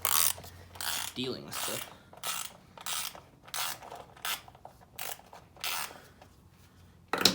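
Ratchet wrench tightening a bolt on a 1986 Honda XL250R motorcycle, clicking in repeated short bursts of about ten strokes, close and clear, with brief quiet talk near the start.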